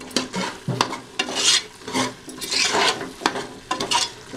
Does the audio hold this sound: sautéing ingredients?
yes